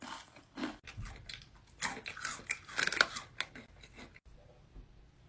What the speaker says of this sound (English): Who the fuck is chewing so loud?